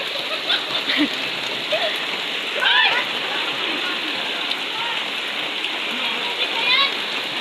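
Steady rain falls after a long drought, a dense even wash of drops with faint bird calls and brief movement sounds over it, and no talk during it.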